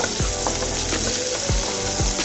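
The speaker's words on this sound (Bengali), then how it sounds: "তেল দিয়ে পেঁয়াজগুলোকে সুন্দর করে আমি নেড়ে ছেড়ে নিব" Onions and chopped garlic sauté in oil, producing a loud, close, continuous sizzle with a few sharp spatula scrapes cutting through as they are stirred.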